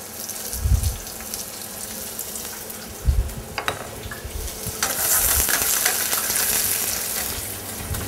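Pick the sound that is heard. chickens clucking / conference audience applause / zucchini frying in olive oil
zucchini frying in olive oil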